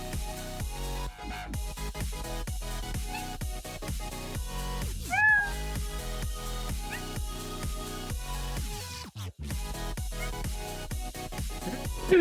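A person imitates a cat, making a string of meowing noises over a steady loud background of music. One rising, higher-pitched meow stands out in the middle, with short gaps and a brief silence near the end.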